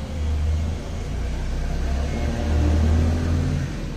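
Morning street traffic with vehicles passing, a steady close engine rumble and road roar that swells and eases over about four seconds, no voices.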